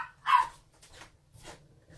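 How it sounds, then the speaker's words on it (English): A dog barks one sharp, close bark, followed by a couple of fainter, shorter yips or whimpers in a quiet kitchen. "I have to go silence the dog."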